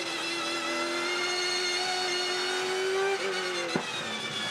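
Onboard a Supercars race car at Sandown: a loud, steady engine drone holds pitch at high revs, then shifts near the end with a brief sharp knock, heard alone without talk.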